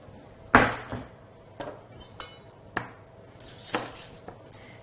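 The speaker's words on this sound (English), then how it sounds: "Now for my onions, which I'll also finely slice with the mandoline." Onions being finely sliced on a mandoline in a home kitchen, a handful of sharp separate scrapes and clacks spaced about a second apart, close and fairly quiet, with no talking.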